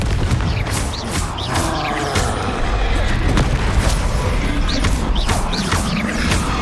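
Confringo and Bombarda explosive spells going off in the Hogwarts Legacy video game, a dense run of booming blasts and sharp cracks layered over constant rumbling combat noise, loud and busy throughout.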